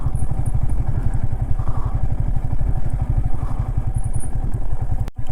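A motorcycle engine chugs steadily and close by as the bike rides over bumpy off-road hillocks, with an even rapid pulse throughout and a brief clatter near the end.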